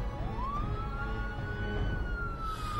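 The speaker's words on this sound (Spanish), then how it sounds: "Sirenas de policía se escuchaban por todos lados." A police siren sound effect from a Spanish-language radio drama wails steadily and loudly, its pitch sweeping upward and then holding over a dense low rumble, with no voices.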